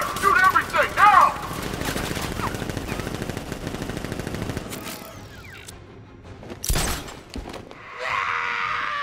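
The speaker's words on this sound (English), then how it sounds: "Open fire! Shoot everything!" Militia machine gun fire rattles in rapid bursts through the first half of a Batman: Arkham Knight ambush, loud and dense, then thins out into scattered shots and mechanical clanks.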